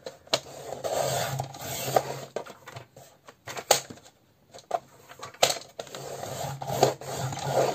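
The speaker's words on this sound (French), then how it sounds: "Là, je vais venir couper en 3 mon image." A paper image is cut into three pieces for a scrapbooking layout, giving close, irregular scraping and rustling strokes with sharp little taps and a brief quiet pause midway.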